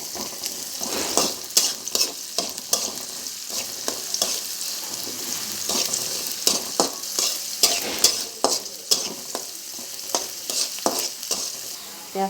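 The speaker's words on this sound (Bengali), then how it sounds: "পেঁয়াজটা ভাজা হচ্ছে," Chopped onion frying in a wok for a pumpkin and shrimp curry, a busy close sizzle broken by repeated scraping and clinking strokes of a spatula stirring, with no voices.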